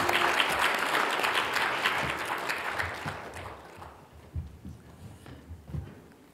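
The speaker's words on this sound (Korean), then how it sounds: "우리 환영의 박수 한 번 더 부탁드리겠습니다." A church congregation gives a round of welcoming applause during a Sunday service, a dense wash of clapping that gradually fades out into a quiet room with a few soft knocks.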